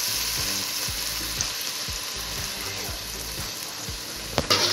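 Onions sautéing with ginger garlic paste in a pan for Ambur-style mutton dhalcha, a steady bright sizzle broken by regular scraping strokes of a spoon, with a sharper clatter near the end.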